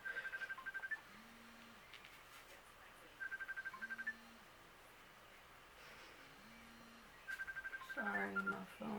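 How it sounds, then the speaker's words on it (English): A mobile phone rings in a faint, repeating electronic pattern of short beeping bursts with lower tones, spaced a couple of seconds apart under a steady hiss. "Sorry, my phone is going off."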